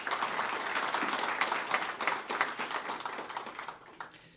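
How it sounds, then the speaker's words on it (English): Sustained audience applause at a community dinner celebration, dense clapping from a crowd that holds steady then thins out toward the end. "Please give them a round of applause."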